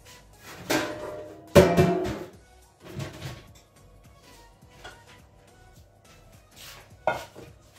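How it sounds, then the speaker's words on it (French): Eggs cracked for a quiche lorraine in a kitchen: several sharp taps and cracks come in short clusters, with softer clinks of shells and a bowl between them, close and clear with no talking. "je vais casser mes œufs"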